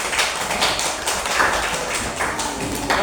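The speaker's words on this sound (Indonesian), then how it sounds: "terima kasih tepuk tangan untuk Mbak Arumi." Classroom applause during a school religious-education lesson, an uneven patter of many hands clapping together at moderate loudness, continuing steadily without talk.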